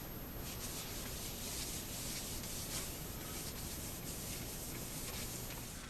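Oil soap rubbed by hand into a gun's wooden stock to remove cosmoline: a continuous close scrubbing hiss, steady and unbroken, with no voices.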